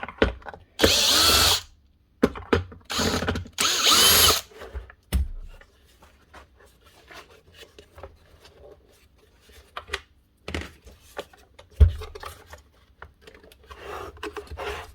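Screws backed out of the motor housing of a Bosch GAS 1200L vacuum that won't switch on: two loud, short whirring bursts from a power driver, then quieter clicks and handling noises with occasional knocks.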